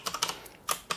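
Typing on a PC computer keyboard: a brief run of light, quick keystrokes in an irregular rhythm, close and alone.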